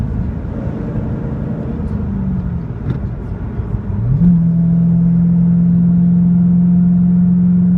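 A 2007 GT500 cruising at around 80 miles an hour, a loud steady low engine and road drone that steps up into a sustained even hum about halfway through, heard from inside the car.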